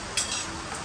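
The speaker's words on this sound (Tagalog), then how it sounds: "Parang nakakamasal haluin yung sinangin." Fried rice being stirred in a pan, a brief close scrape of a utensil against the metal over a steady sizzling hiss.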